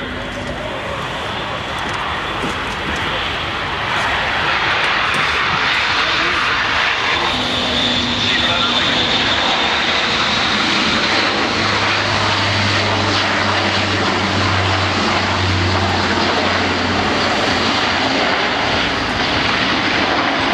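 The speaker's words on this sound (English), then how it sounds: "Each of those 4 propellers has no less than 8 blades." An Airbus A400M military transport with four eight-bladed propellers roars through a flying display at an airshow, a loud continuous engine drone that swells and shifts as it passes, with a voice talking faintly beneath.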